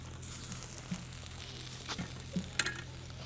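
Meat sizzles on a braai grill at a caravan campsite, a quiet, steady crackle of frying with a few small pops and scrapes scattered through it.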